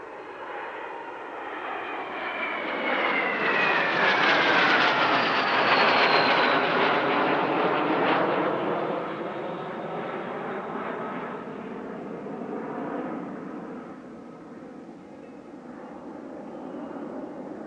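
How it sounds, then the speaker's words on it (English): A Fouga Magister butterfly-tailed jet trainer flies past at an airshow with a loud, sustained jet roar. The engine whine sweeps down in pitch as it passes, then the sound fades to a steady distant rumble. "the Patrouille de France flew this unusual butterfly-tailed jet trainer"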